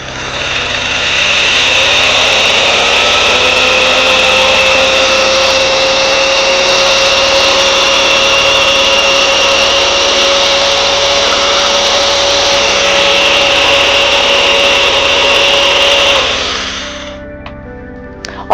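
A turbo agitator tool runs steadily, mixing a thick 1.25% xanthan gum solution: a loud, constant motor whine with a whirring drone that holds for about sixteen seconds, then winds down and stops.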